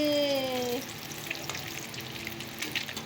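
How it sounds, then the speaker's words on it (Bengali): Spice paste sautéing in a pan for a drumstick and potato curry, a moderate, steady crackling sizzle following a brief whistling tone at the start. "চলো মশলাটাকে আগে ভালো করে কষিয়ে নিই"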